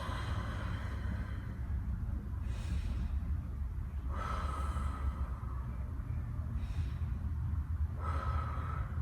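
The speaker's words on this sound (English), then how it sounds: "3 deep breaths." Slow, deep breathing during a yoga session, with long, steady airy inhales and exhales repeating about every two seconds over a constant low background hum, close to the microphone, with no talk.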